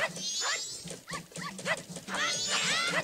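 A dog in The Legend of Zelda: Majora's Mask barks and yips repeatedly in short bursts, loud and close, with a voice speaking between the barks.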